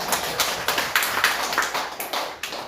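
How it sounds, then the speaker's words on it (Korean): A church congregation claps for a keyboard player, a dense, steady patter of many hands close by with a few sharper bursts, no talking over it. "오늘 이 키보드를 친 자매가 제 아내 김혜연 사모인데 박수도 한번 쳐주기 원합니다."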